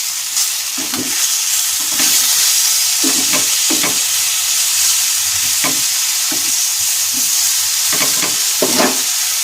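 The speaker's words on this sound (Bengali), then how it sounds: "এটা হলো আমাদের বিড়াল বাবার মাছ ভাজা" Fish frying in a pan, cooked at home for the cook's father: a steady, loud, broadband sizzle of hot oil runs throughout, broken by intermittent scraping and stirring clatters.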